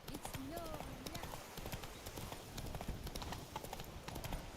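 The horse Roach's hooves clip-clop in a quick rhythm in The Witcher 3: Blood and Wine, moderately loud beneath game ambience, with a brief whinny-like call near the start and a voice speaking over it.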